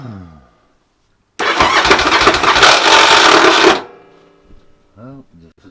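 A Yamaha Virago motorcycle with a rebuilt carburetor that is flooding, tested as its engine cranks and catches in a loud, rough burst of about two seconds, then cuts off, with people talking before and after.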